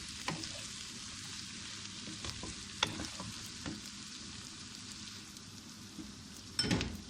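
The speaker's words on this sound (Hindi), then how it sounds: "अब इसको इसमें फ्राई कर लेंगे।" Pre-boiled desi chicken frying in a pan gives a faint, steady sizzle, broken by a few soft clicks and scrapes of stirring.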